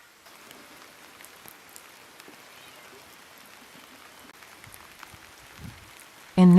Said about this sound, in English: While the bread bakes, we sit together, listening to the rain